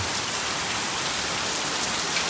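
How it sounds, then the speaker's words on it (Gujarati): Heavy monsoon rain pours down steadily at a cattle shelter, a dense, even hiss of drops with no pauses and no voices. "તો મિત્રો વરસાદ ચાલુ થવાને લગભગ અડધી 1 કલાક એવો સમય થઈ ગયો"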